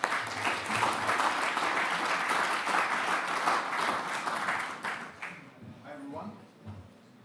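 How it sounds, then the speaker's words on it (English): A conference audience claps loudly and steadily for a guest speaker, the applause fading out near the end as a voice begins. "So please, big round of applause."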